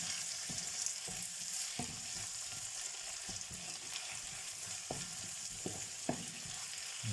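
Tomatoes and onion frying in a pan for chicken biryani, a constant hissing sizzle with scattered soft knocks and stirs, heard up close and alone.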